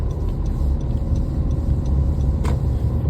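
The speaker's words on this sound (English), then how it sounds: "this car distracted me" A car passes along the road with a steady low engine rumble that stays fairly close and constant, with no voices over it.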